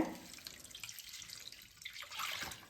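Tamarind water poured into a pot of uncooked green-tamarind rasam, a quiet splashing, trickling flow with drips, fairly close and steady for a few seconds, with no talking over it.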